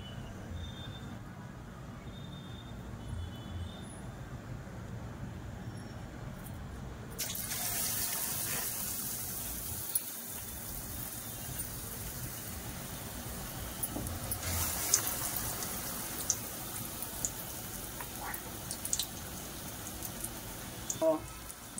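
Mirchi bajji, batter-coated chili fritters, fry in a pan of hot oil on a stove with a soft, steady sizzling hiss. It grows brighter and louder partway through, with faint background noise.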